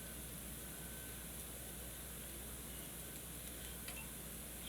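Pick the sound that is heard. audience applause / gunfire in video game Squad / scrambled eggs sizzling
scrambled eggs sizzling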